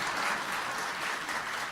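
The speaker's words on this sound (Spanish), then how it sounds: "si quieren darle un aplauso" A church congregation at a Baptist Sunday worship service in Montevideo claps steadily throughout, a dense, even wash of many hands with no voices rising above it.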